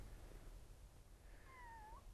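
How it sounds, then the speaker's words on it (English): A cat gives a single rising-then-falling meow, fairly faint, near the end of a short stretch of steady outdoor background noise at a former observation post on the Normandy coast. "Oh, the cat comes to say hello."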